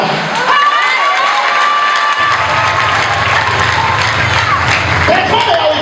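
A church congregation applauds and cheers loudly during a prophet's preaching service, with clapping, shouts and children's voices forming a sustained dense crowd roar throughout.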